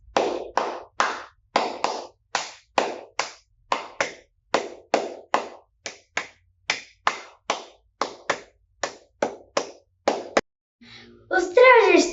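Flamenco palmas, sharp hand claps struck in a steady, fast rhythm of about two per second, loud and close, continuing for several seconds before a brief pause and a burst of other sound at the end.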